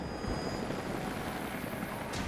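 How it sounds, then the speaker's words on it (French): Helicopter rotors in the Rise of the Tomb Raider video game, a steady low droning thrum filling the scene at moderate level, with no voices. "des hélicoptères arrivent dans votre direction"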